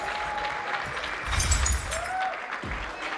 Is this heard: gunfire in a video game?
no